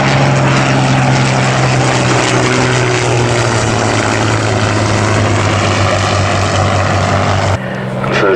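Vintage propeller-driven aircraft flying at the Old Warden air display, a loud steady engine drone with a strong low hum holding close and continuous, changing abruptly near the end.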